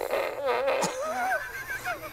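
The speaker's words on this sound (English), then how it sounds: "You just pump that bad boy, you pull the trigger." A Minions Banana Fart Blaster toy gun lets out a wobbly, buzzing fart noise that sweeps up and down in pitch, followed by a squeaky, whistling tail, fairly loud and alone for about two seconds.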